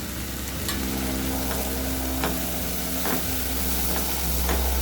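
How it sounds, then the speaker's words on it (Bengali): Spice paste with turmeric and chili powder frying for a shorshe ilish, mustard hilsa curry, a dense steady sizzle with periodic spatula scrapes against the pan, close and constant throughout. "ভালোভাবে মশলাটা কষাতে হবে 1 মিনিট ধরে"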